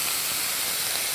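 White wine poured into a hot pan gives off a brief, even steamy hiss that holds at constant strength with no other sounds.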